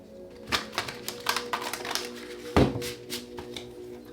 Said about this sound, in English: Let's get 2 more shuffles.